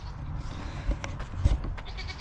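Goats bleating on a farm in a short burst after rain, a couple of distinct bleats standing out over a steady low background murmur.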